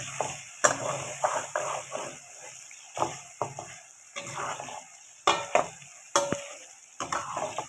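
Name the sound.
chicken with garlic ginger paste frying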